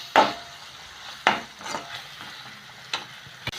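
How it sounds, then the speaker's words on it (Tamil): Chopped tomatoes sautéing in a pan for egg semiya, with sharp scrapes and knocks of a stirring spoon over a soft, steady sizzle, close and clear with no talking. "ஆட் பண்ணிவிட்டு தக்காளி வந்து நல்லா சாஃப்டாக குக் ஆகிற வரைக்கும் நல்லா வந்துட்டு சாட்டே பண்ணி விட்டுருங்க"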